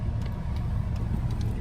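A collector car's engine runs steadily, a low continuous rumble close by, with no talk over it.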